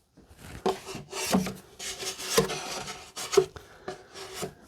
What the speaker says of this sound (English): Go ahead and wipe your excess glue off.